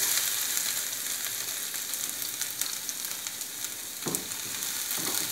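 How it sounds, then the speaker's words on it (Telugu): Garlic sizzles in hot oil, a steady crackling fry with a few soft stirring scrapes, moderately close and with no talk over it. "ఇప్పుడు మనకి ఆయిల్ కాగింది హీట్ ఎక్కింది ఫస్ట్ మనం వెల్లుల్లిపాయలు వేసేసుకుందాం"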